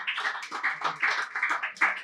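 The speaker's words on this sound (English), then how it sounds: "Everyone give Kendall Brown a round of applause" A small audience claps for Maine Celtics guard Kendall Brown after a casual basketball interview, a brief patter of applause at moderate volume with no voices.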